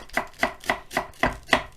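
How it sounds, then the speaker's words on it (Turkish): A knife chops vegetables finely on a cutting board for bami goreng, seven crisp, evenly spaced chops in a steady rhythm, close up and alone with no talking. "sebzelerimize uygun ebatta ince ince doğrayacağız"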